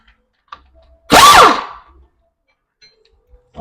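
A single short burst from an air impact wrench running a bolt down on a Kia Sedona wheel hub, loud and close, with quiet shop background before and after.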